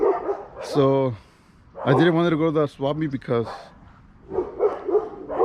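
A dog barks several times nearby in short harmonic bursts, in a few clusters, while someone talks over and between them.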